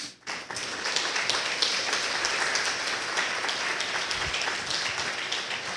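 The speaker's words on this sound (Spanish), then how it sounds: "Denle un aplauso al Señor, amados hermanos." A church congregation applauds with steady, dense clapping that starts almost at once and holds at an even level throughout, with no voices over it.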